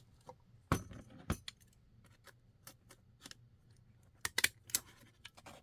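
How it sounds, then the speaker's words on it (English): Paper packaging flaps for a handmade Christmas junk journal get stapled, with a few sharp close clacks and crunches amid quiet rustling and handling of paper. "So I'm going to staple it."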